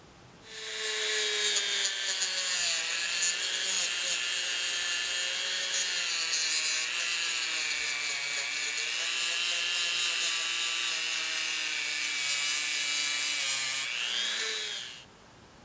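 A wire wheel with an epoxied hub spins against a 12 oz Estwing ball peen hammer during restoration, making a continuous loud abrasive whirring scrape that starts, holds steady for about fourteen seconds and winds down, with no voices.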